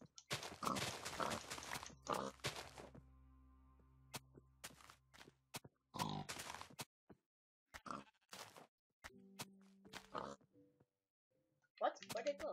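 Pig in a video game giving repeated short grunts and oinks in scattered bursts, mixed with footstep-like clicks and a player's voice talking over it.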